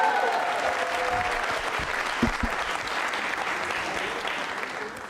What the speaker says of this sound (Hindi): तालियां बजाओ इनके लिए जोरों से आप